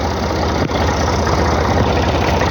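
A loud tractor engine chugs steadily at a low rumble, with a rhythmic knocking pulse and one brief dip in the noise, while pulling a trolley.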